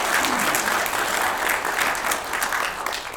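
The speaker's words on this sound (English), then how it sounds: "Give Sickles a round of applause." Audience at a winter lecture on Gettysburg and Dan Sickles breaks into a round of applause, dense continuous clapping that holds steady and starts to taper at the end.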